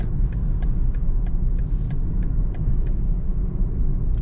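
A BMW 330i cruising at night gives a steady low road rumble and engine drone inside the cabin, with faint regular ticks over the top and no talking.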